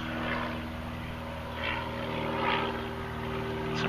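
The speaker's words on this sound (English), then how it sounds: "Poltergeist ending with airplane ambient." Steady drone of a propeller airplane heard from inside the cabin, with rich low-mid hum and engine harmonics running throughout and slight swells in loudness.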